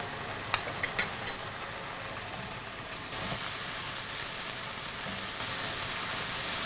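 Prawns fry in hot oil in a pan with a steady, close hiss and sizzle, a few light clinks early on, and the frying swelling louder midway.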